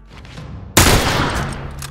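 A sudden loud volley of rifle fire erupts in The Last of Us, hitting sharply after a quiet moment and trailing off into a sustained rattle of overlapping shots at close range.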